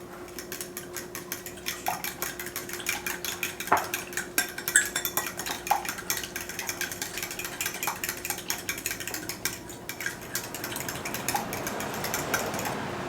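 A utensil clinks and scrapes steadily against a bowl while spiced wet batter for walleye is mixed, with busy close-up clatter and scattered sharper knocks throughout, no talking.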